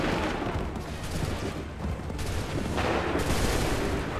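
A dense, sustained clatter of musket volley fire fills an Assassin's Creed 3 battle, with overlapping shots and rolling bursts that keep a steady, loud roar throughout.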